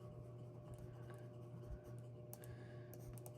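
Pen scratching faintly on paper while budgets are written in a book, soft and close in a quiet room, with a low steady hum underneath.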